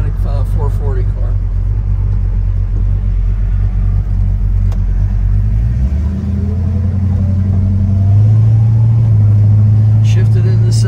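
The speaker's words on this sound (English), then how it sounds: "You can hear the car running. It's got a real nice lopey cam in it." A 1970 Plymouth GTX with a 440 V8 and a lopey cam drives along with an automatic transmission, its deep engine rumble steady and loud throughout, the pitch stepping up as it shifts, with a voice talking over it.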